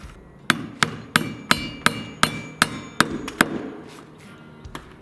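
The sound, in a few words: hammering nails into floor joists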